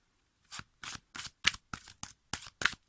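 Tarot cards being shuffled by hand in about nine short, evenly spaced riffling bursts, close and fairly quiet, with no talking.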